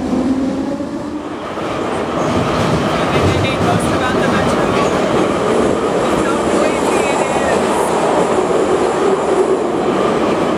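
A Kiev Metro subway train rides underground with a loud, steady roar of wheels on rails and faint squeals and clatter, heard from inside the car without a break.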